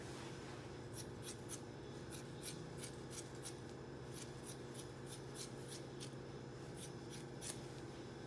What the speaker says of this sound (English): So I'm going to cut another piece of fiberglass out.